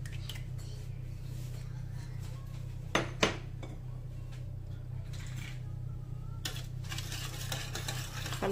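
A spoon mixes eggs into flour in a bowl for homemade burger buns, with a steady soft churning scrape and two sharp clinks of utensil on the bowl near the middle, close by and with no talking.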